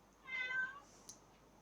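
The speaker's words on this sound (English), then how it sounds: "I just meowed because I heard a cat meow." A cat gives a single short, faint meow, heard alone against a quiet background.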